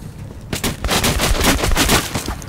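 Loud, rapid gunfire from the video game Metro: Last Light, shots rattling off in quick succession with no talking.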